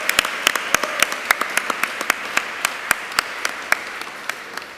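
Sparse audience clapping at an awards ceremony, a scattering of distinct hand claps at an uneven rhythm, moderately close and continuing for several seconds.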